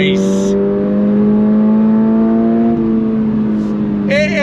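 A 2024 Subaru BRZ tS engine climbs loudly and steadily in pitch under throttle for several seconds, heard from inside the car, with short bursts of voices at the start and end.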